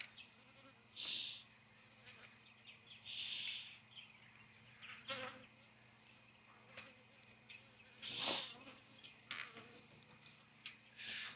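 Honey bees buzzing during queen banking with queen cells and cages, faint and fairly close, with several louder buzzing passes swelling and fading over a quiet background hum.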